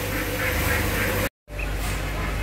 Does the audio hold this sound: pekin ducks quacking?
yes